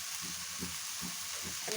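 Green chillies stirred through malta chutney frying in a pan, a faint, steady sizzle with soft scraping stirs pulsing roughly every half second.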